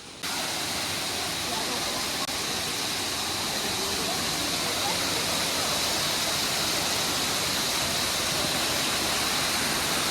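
The Sanaghagara waterfall in Odisha, a close, steady roar of falling water that runs unbroken and loud the whole way through.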